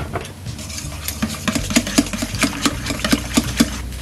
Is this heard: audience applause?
no